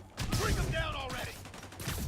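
Enemy gunfire in the Spider-Man video game, a steady fusillade of shots at moderate level mixed with game effects and a brief voice.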